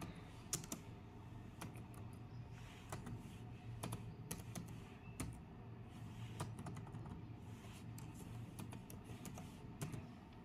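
Keys on a computer keyboard click faintly while someone works in accounting software, with scattered single taps and quick clusters of keystrokes over a quiet background hum.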